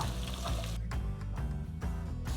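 Chopped onions hit a hot pan for a spicy Kerala-style beef roast, giving a steady close sizzle and fry that fills the whole stretch, with faint stirring and no talk.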